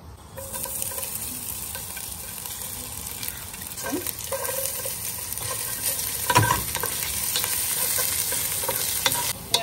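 Ginger and garlic fry in a pan for shrimp fried rice, making a continuous sizzle with scattered stirring scrapes and clinks that grow louder toward the end, close and with no talk.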